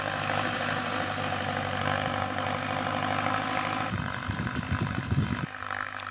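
A tractor engine runs steadily while plowing a field, a loud continuous rumbling drone heard from a distance, rougher and more throbbing near the end.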